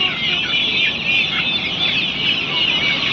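Chickens at a roadside hen seller, including large-breed and Giriraja birds, clucking continuously and close by, with overlapping calls and a dense steady flock chatter.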